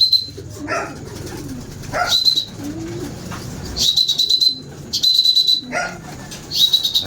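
Racing pigeons returning at dusk to their wooden coop coo and flap near and loud, with repeated bursts of wingbeats and soft calls.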